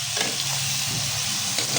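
Bottle gourd goes into a pan of frying spiced masala with green chillies and ginger-garlic-cumin paste, giving a steady close crackling sizzle with faint stirring scrapes throughout.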